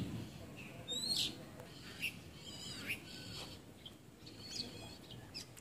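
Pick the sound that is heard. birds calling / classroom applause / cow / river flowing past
birds calling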